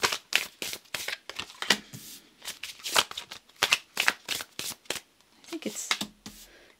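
Tarot cards being shuffled by hand in a series of quick crisp riffles and flicks, close and clear, with short pauses between bursts and a brief murmur of voice near the end.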